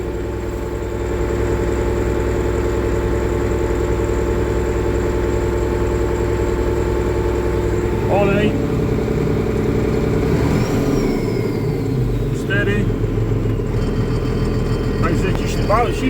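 An HTZ tractor fitted with a Cummins 8.3 engine idles steadily and loudly throughout, a deep continuous rumble with a few brief higher squeaks and hisses partway through, and no talking.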